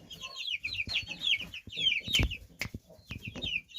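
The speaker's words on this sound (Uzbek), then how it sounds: "Qip-qizil xo'roz chiqqan." A short-beaked red rooster clucks in repeated bursts close to the microphone, a rhythmic series of nasal calls with brief pauses and a few soft knocks in between.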